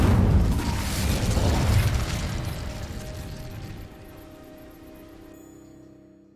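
A fire spell cast on dry vines in Hogwarts Legacy bursts with a deep, booming whoosh of flame up front, then crackles and fades into a lingering low rumble before trailing off.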